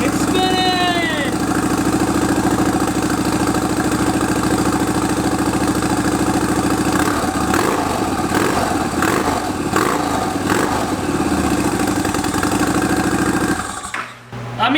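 Cheap $120 eBay turbo bolted to a motorcycle engine, running steadily with a continuous mid-pitched drone and a rising whine as the turbo spins up, then rough pulsing toward the end before cutting off abruptly; voices speak over it.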